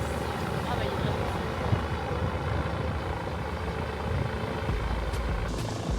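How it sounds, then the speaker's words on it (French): Helicopters hover and pass overhead near a Miami beach, a steady low rotor rumble that stays constant under ambient noise and voices talking nearby. "il y a encore des hélicoptères qui passent"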